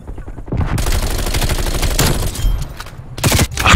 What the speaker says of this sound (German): wieso habe ich ein ganzes Magazin verschossen?